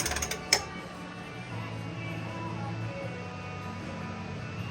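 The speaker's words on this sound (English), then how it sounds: "We're getting the main leaf spring eye bolts out right now." Ratcheting wrench work on rusty leaf spring eye bolts of a Jeep Cherokee, with a few quick clicks at the start, then a steady low mechanical creak and grinding hum as a bolt is worked loose.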